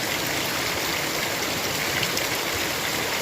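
Creek water flowing beside a gold panning spot, a steady, loud, close broadband rush and gurgle that continues without pause and with no voices.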